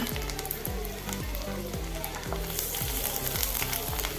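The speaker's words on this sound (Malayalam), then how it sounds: "ഇനി കുറച്ച് ഓയിലും കൂടി ചേർത്ത് കൊടുക്കുക ഇനി കുറച്ച് വെളുത്തുള്ളി ചെറിയ പീസാക്കി അരിഞ്ഞതാണ് അതും കൂടി ചേർത്ത് കൊടുത്ത്" Chopped garlic sizzles steadily in hot oil for a vegetable macaroni pasta, a loud continuous fry with a regular thumping rhythm of stirring strokes underneath, no voices.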